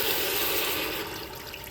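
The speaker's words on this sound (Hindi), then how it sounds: "and then I'm gonna add some water." Water splashes steadily into a pressure cooker over browned lamb ribs, a loud, continuous pouring rush that tapers slightly toward the end, with no voices over it.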